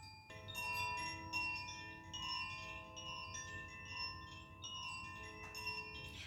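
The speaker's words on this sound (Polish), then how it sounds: "dzwoneczek Kosi będzie tworzył piękne tło muzyczne" Koshi chime bell ringing softly, scattered clear metallic tones overlapping and ringing out in a gentle, irregular sequence, quiet and close, alone without speech.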